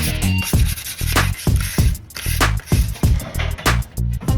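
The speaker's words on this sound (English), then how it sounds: "now we're just going to go over it with a very fine grit sandpaper and some more tack cloth to remove any dust or debris" Very fine grit sandpaper sanding a painted Kawasaki Ninja 250 motorcycle fairing: rapid, rhythmic rasping back-and-forth strokes, close and fairly loud, with brief pauses between passes.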